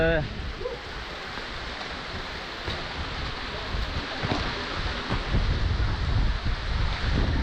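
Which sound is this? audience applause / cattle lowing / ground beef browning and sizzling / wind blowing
wind blowing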